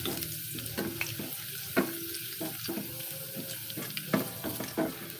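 Garlic sautés in a pan for sardines, a soft sizzle and frying crackle broken by repeated scraping stirs and light metallic knocks, fairly quiet and close.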